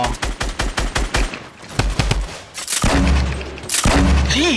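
Rapid crackling volleys of weapon fire in Fortnite, a fast string of sharp shots followed by heavier booming blasts from a grenade launcher and rocket launcher, loud and close.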